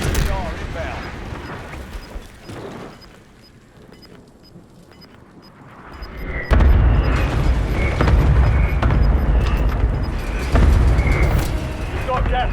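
Artillery strike in a battle royale video game: a quiet stretch gives way to heavy rumbling explosions that roll in one after another and keep booming loudly to the end.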